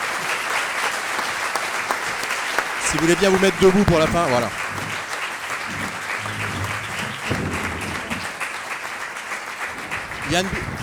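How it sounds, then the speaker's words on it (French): Sustained warm applause from a conference audience after a coronavirus question session, dense clapping running throughout while someone speaks briefly over it partway through. "qu'on les applaudisse très chaleureusement"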